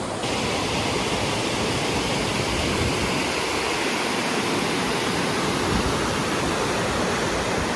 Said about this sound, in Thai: มาถึงแล้วนะครับ น้ำตกวังน้ำมอกนะครับ